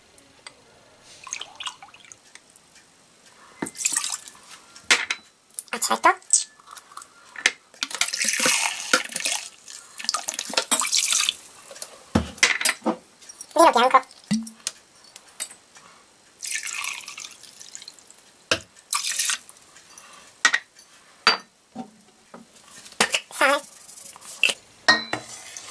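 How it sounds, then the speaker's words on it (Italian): Liquid splashes and trickles into a pan in irregular bursts as water, white wine and white wine vinegar are poured in one after another, with clinks of cookware and drips between pours. "In un tegame versa il rapporto di 1 a 1 acqua, vino bianco, aceto di vino bianco"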